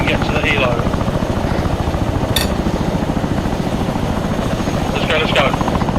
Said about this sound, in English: Be ready to get to the helo.